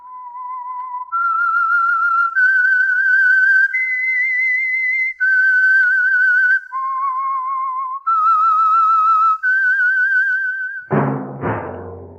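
A clear, melodic whistled tune of held notes rising and falling, loud and close, ending in a brief burst of other sound.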